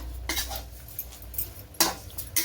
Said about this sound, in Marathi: आता हा एक कप मी दूध टाकले हे छान मिक्स करायचं